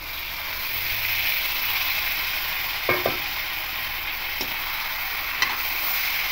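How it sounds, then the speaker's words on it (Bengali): Marinated chicken with coconut sizzles in a pan, a steady frying hiss broken by a few brief stirring clicks and scrapes, no voices. "এবার ম্যারিনেট করা যে চিকেনটা আছে, এবার এই চিকেনটা এখানে পুরোটাই দিয়ে দেবো।"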